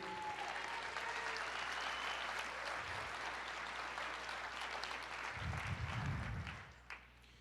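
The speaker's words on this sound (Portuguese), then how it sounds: "aplauda o Senhor" Sustained applause for the Lord from a church congregation during a sermon, a thick, even roar of clapping that continues for about seven seconds before ending.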